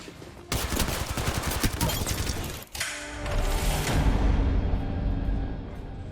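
Rapid bursts of gunfire in the shooter game Valorant, dense automatic shots with sharp cracks, a brief pause, then more firing blending into a rumbling, echoing tail.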